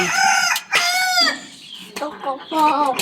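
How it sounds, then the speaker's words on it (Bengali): Chickens cluck and a rooster crows loudly nearby in a village yard, with short bursts of calls overlapping one another. "এই হচ্ছে হাঁস মুরগি"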